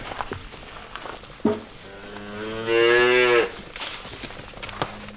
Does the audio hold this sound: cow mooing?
yes